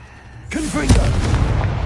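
A spoken spell name comes first, then a booming blast from the Confringo spell in Hogwarts Legacy, a loud burst that rumbles on briefly.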